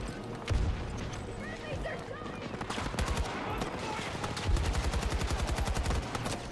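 Video game gunfire rattles in repeated rapid automatic bursts, loud and close, with talk over parts of it.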